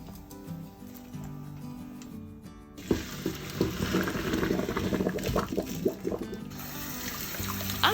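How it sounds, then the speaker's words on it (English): Soba noodles drop into a pot of boiling water on a home stove, a soft start giving way to busy bubbling and splashing with irregular pops, close and moderately loud. "Put the soba in boiling water and boil it as indicated on the package."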